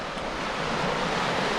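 Surf breaks on the shore at Lyme Regis beach as a steady, broad wash of waves that swells slightly. Wind buffets the microphone throughout, and no one speaks.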